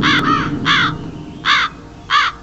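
A crow caws four times, each call a harsh, hoarse burst, loud and close, spaced at uneven intervals over a faint background hiss.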